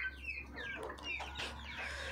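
Chickens, including Adler breed birds, clucking in a coop, several soft overlapping clucks and chirps close by over a steady low hum.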